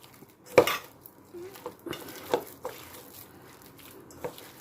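Kanchkala kofta mixture of mashed green banana and gram flour being kneaded together in a bowl, with soft squishing and scattered clinks of hand or utensil against the dish, close and fairly quiet, no talking.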